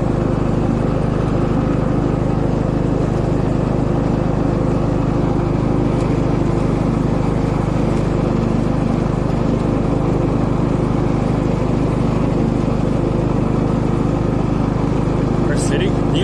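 A ride-on lawnmower engine runs close by in a steady, unbroken drone that holds at the same loudness from start to finish.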